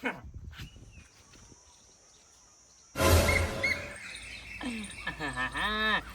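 A myna bird calls in a rural Gujarati outdoor setting, its chirps and warbling whistles coming in bursts after a quieter stretch, loud and fairly close, with some rustling and background noise around it.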